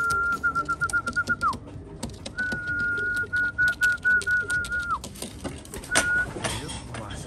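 Pigeons cooing in rhythmic pulses close by, mixed with a steady whistled tone that stops and restarts, plus light rustling and clatter.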